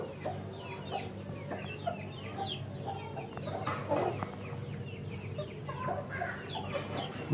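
A mother hen that has just hatched chicks clucks steadily and close by, with soft peeping chirps scattered throughout amid a busy backyard poultry setting.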